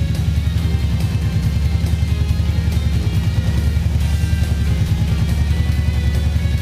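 A Brute Force 750 engine idles during throttle synchronisation, a loud, close, rhythmic low throb of steady firing pulses that keeps an even pace throughout.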